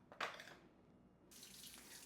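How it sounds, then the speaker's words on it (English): Water runs from a kitchen faucet into a sink, a brief splash at first, then a quiet steady flow returning near the end. "So I have the water running"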